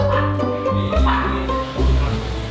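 Several dogs at an animal shelter for abandoned and abused dogs bark and yip in loud, close bursts, with a brief whimper, and a voice faintly underneath.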